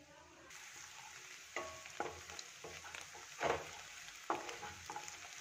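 Onions frying slowly in a pan for a mushroom and pea masala give a soft, steady sizzle, with several quiet spatula stirs and scrapes scattered through it, faint and close, and no voices.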